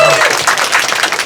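A short burst of close, loud audience clapping at a poet's book talk in a Korean bookshop, brisk and continuous throughout.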